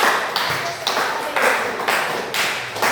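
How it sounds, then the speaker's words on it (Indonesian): A class applauds group 4 after a Quran recitation exercise: a crowd of hands clapping in uneven bursts, fairly close and loud, with voices mixed underneath. "tepuk tangan untuk kelompok 4"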